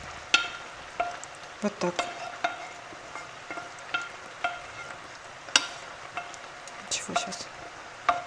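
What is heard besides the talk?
potatoes added and stirred over frying mushrooms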